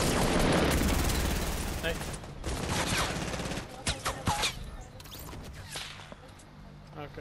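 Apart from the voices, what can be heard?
gunfire in the video game Fortnite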